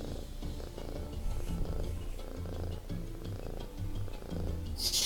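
A cat purring close up, a steady low rumbling rhythm that continues throughout, with a brief brighter noise near the end.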